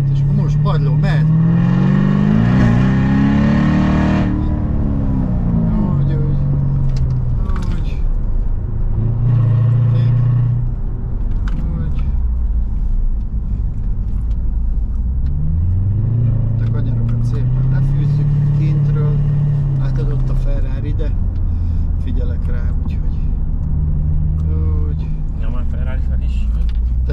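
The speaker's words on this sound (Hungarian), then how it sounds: "nyisd ki a kormányt, és most padló, mehet!" Chevrolet Corvette C7 at full throttle on the Kakucs Ring track, its engine note climbing in repeated rising sweeps, held close and loud beneath continuous in-car conversation.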